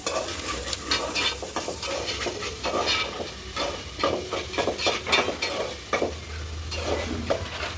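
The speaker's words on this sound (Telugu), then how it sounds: "మిరపకాయల పేస్ట్ వేగిపోయింది" Chili paste fries in oil in a pan for Nellore-style fish curry, a soft steady sizzle broken by frequent scraping stirs of a spoon against the pan, close up with no voices.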